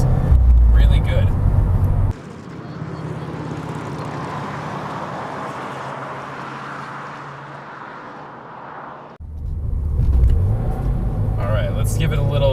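A Subaru WRX accelerates hard on a speed run, its engine drone rising steadily from inside the cabin after an abrupt shift, loud and continuous with a brief dip before the revs climb again.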